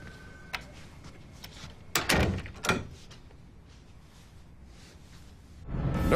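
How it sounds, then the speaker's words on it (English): A new door is opened and shut indoors, giving a couple of close, sharp thunks and a rattle of the frame, then quiet room tone and a rising rustle at the end. "I got a new door. Go take a look at it."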